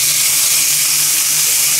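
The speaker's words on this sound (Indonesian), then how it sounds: "Kemudian aku akan coba nyalakan keran di wastafel." Strong, steady hiss of a sink faucet running at full force, fed by a Shimizu booster pump, loud and close with no pauses for under two seconds.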